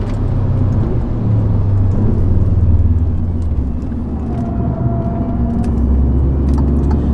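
An Alfa Romeo Giulia QV sedan drives hard on a circuit at La Ferté-Gaucher, its engine a loud, steady drone close up that swells and settles with a brief rising whine partway through.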